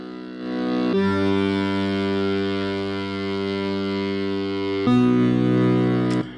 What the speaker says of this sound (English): 5, 6 layers of accordion playing together.